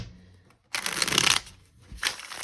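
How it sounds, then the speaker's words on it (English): Tarot cards are shuffled in two quick riffling bursts, close and crisp, the first longer and the second shorter, with a brief quiet gap between. "One more shuffle here"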